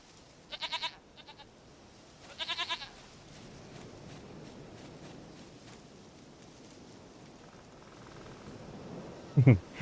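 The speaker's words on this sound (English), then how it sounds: "Goat of mine, dearest, sweetest goat." Two bleats from a goat in The Witcher 3 video game, each a short wavering cry a second or so apart, heard over quiet ambient game background, with a sharp sound at the end.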